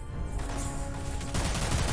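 Gunfire strikes the player character in the Dirge of Cerberus video game, a fairly quiet, dense burst of rapid shots that carries on throughout and intensifies toward the end.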